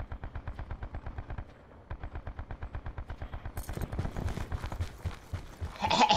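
Rapid automatic gunfire in Call of Duty Black Ops 4 rattles in a steady stream of evenly spaced shots, pausing briefly and then growing louder and denser toward the end.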